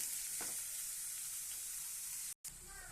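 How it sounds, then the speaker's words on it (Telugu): Onions crackle and hiss in a pan while being stirred for karela fry, a close, even sizzle with a short break near the end. "ఆనియన్ వేసి మంచిగా కలుపుకుందామండి"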